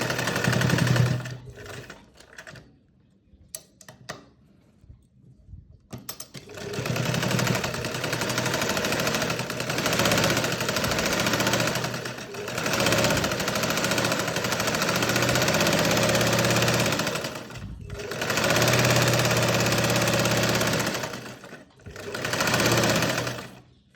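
A sewing machine stitches a sleeve seam in long, loud, steady runs of rapid mechanical clatter, broken by short pauses and a quieter stretch early on, close up and with no talking.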